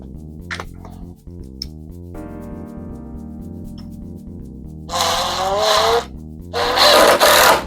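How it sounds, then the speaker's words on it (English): A power drill pre-drills holes in a pocket door during assembly, whirring loudly in two close bursts near the end after a stretch of quieter handling noise. "I'm going to pre-drill these."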